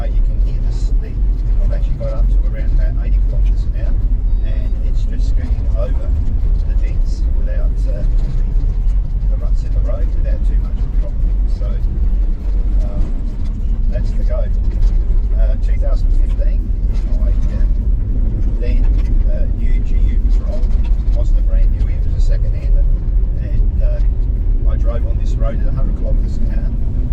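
A car rolls along a road at about 80 km/h between Mambray Creek and Blinman, giving a steady, loud tyre roar and low rumble heard from inside the cabin, with a person talking over it much of the time.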